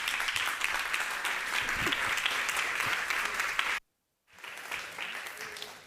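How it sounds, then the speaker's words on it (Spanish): A seated audience gives a loud, dense round of applause welcoming Fernando Beltrán on stage. The applause is steady and close, breaks off briefly, then resumes at full strength. "bienvengamos con un fuerte aplauso a Fernando Beltrán"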